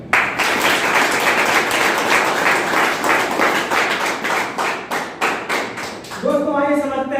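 An audience at a health awareness programme in Dindori breaks into sustained, close, dense applause with rhythmic clapping for several seconds, thinning out toward the end as a voice starts to speak.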